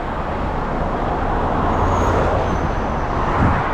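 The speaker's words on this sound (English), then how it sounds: "There's two vehicles coming down an X." Steady roar of vehicles passing close by on a UK road at a closed-off section near a refuge area, a continuous loud traffic rumble with no talk.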